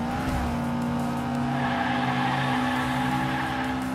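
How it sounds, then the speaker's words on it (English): Racing truck engine in the Hot Wheels Unleashed video game, a steady loud motor drone with rising and falling pitch that holds throughout, tire noise mixed in, and no talking over it. "this truck sounds pretty fast."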